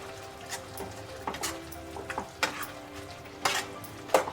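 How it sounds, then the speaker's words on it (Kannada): A spoon stirs mutton fry in a pan, giving repeated scraping clatters in an irregular rhythm over a low sizzle, close and fairly quiet, with no talking. "ಚೆನ್ನಾಗೊಂದು ಮಿಕ್ಸ್ ಕೊಡೋಣ."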